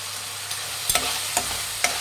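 Chicken noodles stir-fried in a pan, a constant loud sizzle broken by a few quick scraping and tossing strokes.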